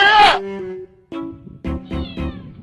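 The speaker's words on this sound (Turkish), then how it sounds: "Arabanın altına kedi giriyor ya." A cat meows loudly and close, followed by several shorter, plaintive meows in quick succession.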